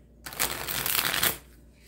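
Boggle letter dice rattle in a plastic tray, a dense shaking burst of clattering lasting about a second, close and loud, with a quiet room before and after.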